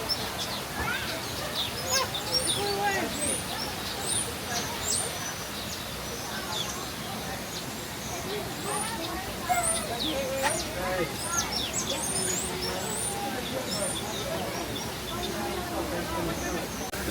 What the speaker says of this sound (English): So this is a really colourful aviary. So the fish are like bright blue and there's loads of yellow birds flying all around.